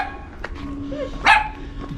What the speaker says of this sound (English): Hello, yappy dogs.